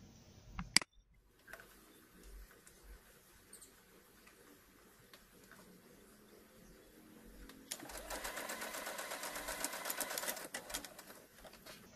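A sewing machine stitches a cloth face mask, its fast, steady whirring buzz running loud for several seconds after quieter clicks and handling noises at a small workspace.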